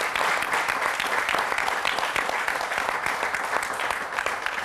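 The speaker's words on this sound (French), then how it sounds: "On va la saluer avec beaucoup d'acclamations" A studio audience at a Christian television program applauds in a dense, steady burst of clapping with faint cheering, loud and sustained for several seconds without a break.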